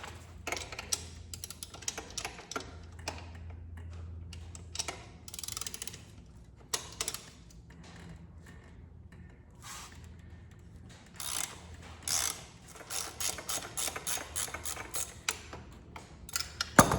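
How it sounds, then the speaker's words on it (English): Ratchet clicking in quick irregular bursts while the brake pedal comes off a 1997-2001 Honda CR250 two-stroke dirt bike during a rebuild, close and fairly quiet, with no talking. "I think I'm gonna go ahead and just take off the brake pedal to make this job easier"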